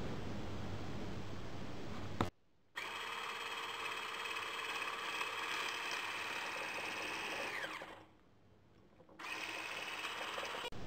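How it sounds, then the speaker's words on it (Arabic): An electric mixer beats sugar and eggs at top speed with a steady high whirring drone, cutting out briefly twice before resuming. "نبداو نحط السكر مع البيض ونخلطو على أقصى سرعة"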